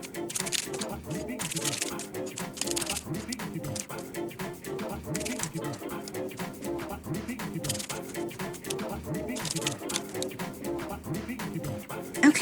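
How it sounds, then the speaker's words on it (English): A tarot deck is shuffled repeatedly, with steady riffling and slapping card sounds running throughout at moderate, close level over faint background music. "I'm going to shuffle and then we will talk about what all the cards mean"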